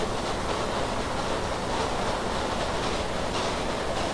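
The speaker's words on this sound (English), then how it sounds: "I'm just letting the train cruise along." A train cruising along in a train simulator game, heard as a steady, unbroken rumble of wheels and wind at even loudness with no talk.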